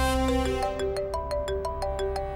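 A mobile phone ringtone plays a bright, repeating electronic melody of evenly spaced tones over a low background hum, loud and close with no speech.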